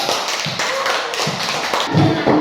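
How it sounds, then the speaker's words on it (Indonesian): A classroom of students clapping together for a group, a dense patter of hand claps over a couple of seconds. "kita beri tepuk tangan dulu untuk kelompok 3"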